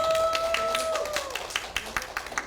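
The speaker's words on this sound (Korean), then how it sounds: "다시 한번 박수 부탁드리겠습니다." Applause from the audience at a resident self-governance pilot project results-sharing session in Yuseong-gu, a dense patter of clapping at first that thins into scattered individual claps, over a faint tonal hum that falls away.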